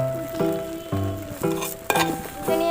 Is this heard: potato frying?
yes